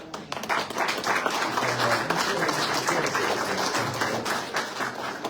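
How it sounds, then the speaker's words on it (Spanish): A book-presentation audience applauds the author Leandro, a steady round of clapping from a room full of people that holds its level for several seconds. "Un aplauso para Leandro."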